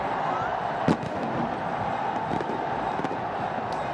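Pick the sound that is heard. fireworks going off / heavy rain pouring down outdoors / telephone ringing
fireworks going off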